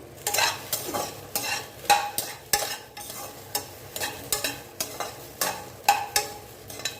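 Chunks of eggplant for a spicy Andhra pachadi are sautéed in a pan, a soft sizzle under regular scraping stirs that land roughly twice a second, close and unhurried, with no voices.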